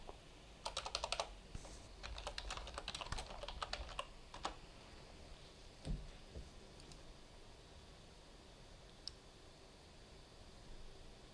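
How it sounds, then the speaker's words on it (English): Quick bursts of typing on a computer keyboard during a web search, clustered clicks in the first few seconds, then sparse isolated keystrokes against a quiet room background. "I'm just going to do a quick Google on speeding up. If I could type, it'd be wonderful."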